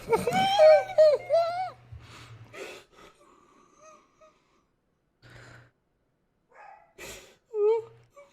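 A voice mimics a dog's whimper with a series of high, wavering whines and gasps at the start, then sparse quieter squeaks and breathy sounds with long gaps between them.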